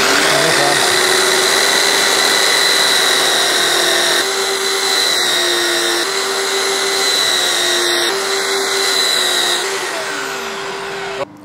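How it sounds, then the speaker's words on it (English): A belt sander mounted in a screwed-together box sands wood with a steady, loud whine that runs continuously and close, with a brief shift partway through and a slight tail-off at the end. "It's just a box that the belt sander's screwed into, and that way I can do this."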